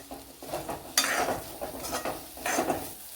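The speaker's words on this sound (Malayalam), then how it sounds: "നല്ലപോലെ ഒന്ന് ഫ്രൈ ചെയ്തെടുക്കുക" Chopped ginger and curry leaves frying in a pan with roasted coconut for a Kerala egg masala curry, heard as bursts of sizzling with stirring scrapes, loud and close, with no voices.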